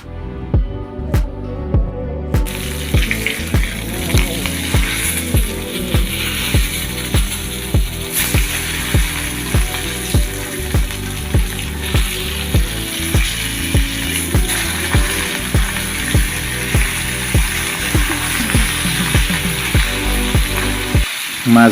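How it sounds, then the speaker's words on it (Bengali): Surma fish fry in salted oil with a constant close sizzle, joined by a steady rhythmic ticking pulse repeating about once a second throughout. "মাছগুলো এখন ভেজে নিতেছি"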